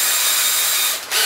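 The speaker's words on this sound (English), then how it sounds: "then I have a reamer style drill bit, which I'll then slowly drill it larger and larger and larger until" A reamer-style drill bit grinds loudly and continuously as it widens a pilot hole for a jack plug in a DIY guitar amplifier build, dipping briefly near the end before resuming.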